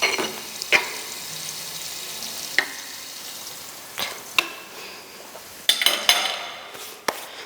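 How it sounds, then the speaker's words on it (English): Sweet potatoes sautéing in a very hot pan give a continuous soft sizzle, broken by sharp clinks and scrapes of a utensil against the pan at irregular intervals. "Then from there on now we can saute our sweet potatoes."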